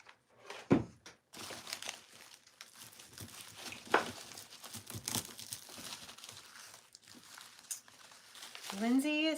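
Greenery being cut and handled while making a year-round wreath, with crinkling, rustling leaves and sharp snips scattered through the clip, up close.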